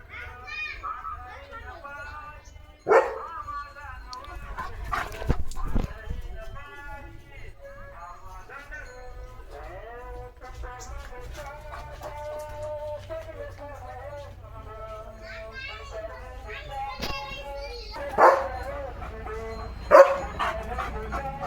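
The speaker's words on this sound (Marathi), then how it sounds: "दिंडीचा आवाज येतोय तर लिओ त्याला भुंकतोय" A dog barks in several sharp bursts at a village devotional procession (dindi), whose amplified singing and music play from loudspeakers in the distance, with people's voices mixed into the background.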